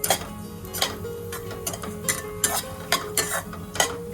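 Cashews and almonds fry in hot ghee as a spoon stirs them, with a soft sizzle under repeated sharp scrapes and taps against the pan at an uneven rhythm, fairly quiet and close.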